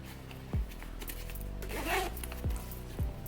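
The zipper on a small Alpaka Go Sling Mini V2 5L sling bag is pulled closed in several short, close zipping strokes, with brief snags between the pulls and faint speech in the background.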